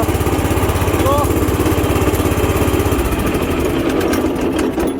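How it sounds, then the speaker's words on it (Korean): Farm transport cart engine, fitted with a replacement magneto, starts and runs with a loud, close, steady putter and an even chugging rhythm that smooths slightly near the end, while a voice speaks over it. "시동 한 방에 잘 터지고 시동 한번 걸어봐."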